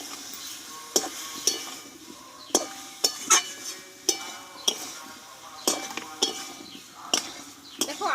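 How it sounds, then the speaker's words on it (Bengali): A vegetarian jackfruit and potato curry is stirred after whisked yogurt goes into the pan: a soft bubbling backdrop punctuated by regular, distinct clinks and scrapes of a spatula against the pan, close by. "দইটা দিয়ে আমি একটু নাড়াচাড়া করে নেবো"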